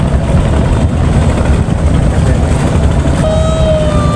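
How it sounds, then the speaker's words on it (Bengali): A boat engine drones loud and steady, close by, as the boat moves slowly across the middle of the Buriganga river, with a thin tonal whine rising toward the end. "নৌকা আস্তে আস্তে চলে যাচ্ছে"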